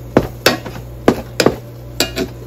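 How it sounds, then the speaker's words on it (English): Chicken fried rice being stirred in a rice cooker, heard as a series of close, sharp knocks and scrapes of a utensil against the pot at irregular intervals, with no talking. "We're gonna give this a stir."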